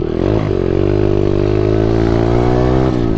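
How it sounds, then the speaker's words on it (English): An SSR125 Chinese pit bike engine runs steadily at a loud, close, buzzy idle with a brief dip in pitch early on, then holds an even tone before a small change near the end. "This bike seems to be idling a lot better than other ones"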